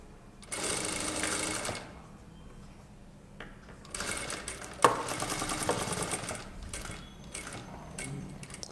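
Close sewing machine stitching on fabric, with a burst of fast whirring stitches, a pause, then a longer run of stitching that includes a sharp click and trails off into brief bits of stitching.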